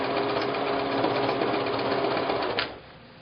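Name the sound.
sewing machine stitching appliqué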